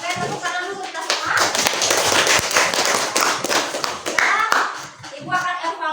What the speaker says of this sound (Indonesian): Oke, tepuk tangan dulu kita semua.